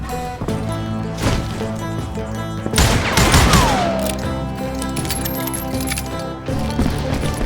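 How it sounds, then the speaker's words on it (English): Enemy gunfire in the western shooter game Call of Juarez Gunslinger comes as a few sharp, scattered shots, one especially loud, ringing over a dense musical score. "Keep shooting. I don't mind."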